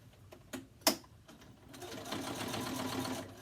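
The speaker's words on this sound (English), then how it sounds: "I also put a back stitch in here just to give it more support on there" A sewing machine back-stitches a face mask, a close, steady mechanical whir running through the second half after a few light clicks and handling sounds, quiet overall.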